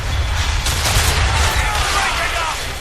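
Naval battle in Assassin's Creed Rogue, with dense, loud cannon and gunfire rumbling and crackling continuously, heavy low booms under sharp bursts, while voices shout over the din.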